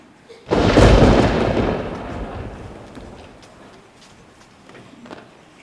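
A sudden loud thunderclap during a storm, with a heavy broadband rumble that swells, then slowly decays into a lingering low roll over several seconds, with no voices.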